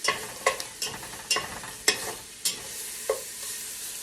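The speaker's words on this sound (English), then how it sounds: "we're scraping from the bottom of the pan because we want to get that flavor soaked up into our onions and our garlic" Onions and garlic fry in a pan while a utensil scrapes the bottom, giving a series of sharp scraping strokes roughly every half second over a soft, continuous sizzle.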